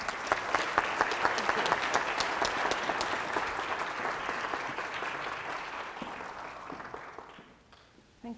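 A lecture audience claps warmly to welcome an architect to the stage, a dense, steady round of applause that fades gradually toward the end.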